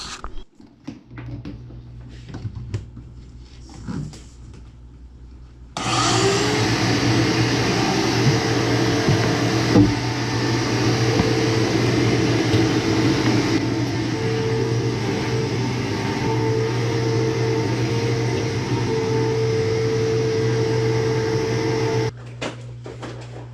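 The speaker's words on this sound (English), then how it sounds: "Some of the sawdust the vacuum just doesn't clean up." Vacuum cleaner sucking up sawdust, switched on after a few seconds of small knocks and running as a steady, loud whining drone for about sixteen seconds before cutting off.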